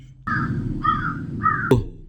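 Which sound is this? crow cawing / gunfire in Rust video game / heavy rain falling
crow cawing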